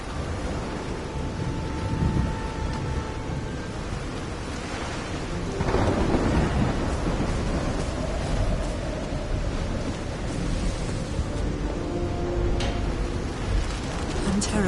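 A thunderstorm in the video game Call of the Sea, with heavy rain hissing steadily and deep rolls of thunder swelling at moments, loud and continuous throughout.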